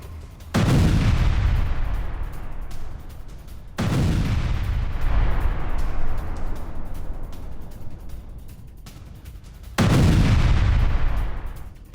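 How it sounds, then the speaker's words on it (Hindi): Russian artillery firing in Donetsk in wartime: three heavy booming blasts, each with a long rumbling decay that rolls into the next, loud and close with no voices over them. "डोनेस्क में रूस की आर्टिलरी का एक्शन नजर आया है"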